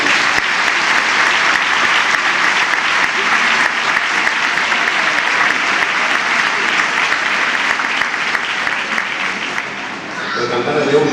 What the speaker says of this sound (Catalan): Y un gran aplaudimiento a ellos